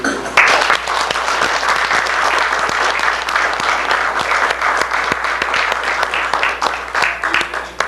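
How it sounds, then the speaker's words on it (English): Sustained applause from a large crowd, dense and loud clapping filling the whole stretch without pause. "a round of applause and appreciation for the long-serving member of Bob Wright."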